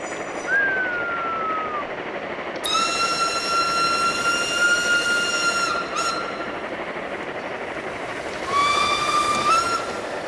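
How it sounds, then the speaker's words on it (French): A locomotive in the train simulation game Streamlined rumbles steadily along the rails, its loud whistle blowing in several long tonal blasts over the running noise, with no talking. "Ça c'est une locomotive."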